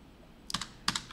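Two quick keystrokes on a computer keyboard, including a press of the End key while setting editor preferences, sound as close, light clicks against a quiet room with no voices.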